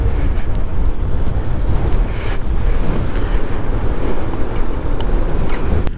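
Strong wind buffets the microphone at Vavunikkulam lake, with lapping water and waves underneath, a continuous loud rushing roar with no voices.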